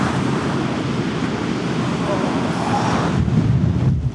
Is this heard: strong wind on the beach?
yes